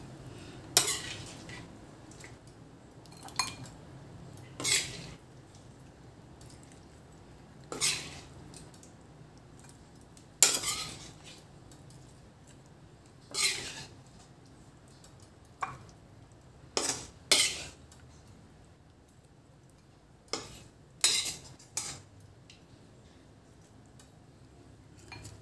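Adobo transferred from the pot into a serving dish with a utensil, producing a scattered series of sharp metallic scrapes and clinks at irregular intervals over a quiet background, with no talking.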